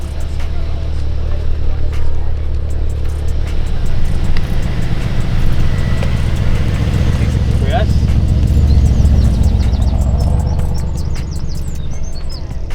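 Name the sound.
busy car park at a car meet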